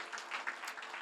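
Brief burst of church congregation clapping, a dense patter of many hands, fairly steady and moderately loud with no voices.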